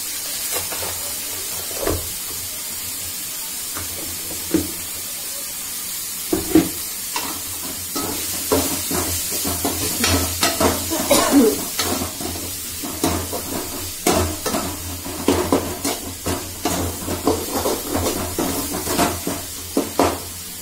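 Tomatoes cooking in a pan with coriander powder and masala for vatanyachi bhaji, a soft steady sizzle broken by irregular scraping and stirring clatters that grow busier midway.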